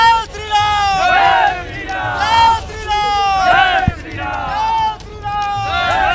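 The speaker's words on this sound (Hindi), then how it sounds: "आप देखिए जो यहाँ पर भीड़ लगी हुई है, प्रधानमंत्री का एक दीदार पाने के लिए" A large crowd waits for Prime Minister Modi's convoy during the Lok Sabha election campaign, loud and close, with voices shouting and chanting in repeated rhythmic bursts over a constant background murmur.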